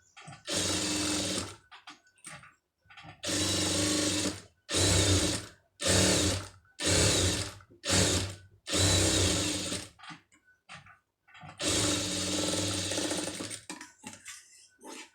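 A sewing machine runs in a series of bursts while stitching around a pom pom design, each run a loud, rapid mechanical whirr lasting one to two seconds, separated by short pauses and faint clicks.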